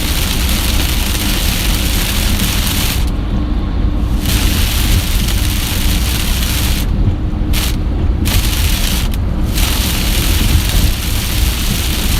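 Heavy rain pours steadily during a tornado-warned thunderstorm over the Dallas–Fort Worth area, a dense continuous roar with a few dull thunder-like booms and gusty surges, loud and close, with no talking.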